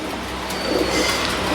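Highflyer pigeons coo softly amid a busy, noisy background, the calls faint and blended into the surrounding hum.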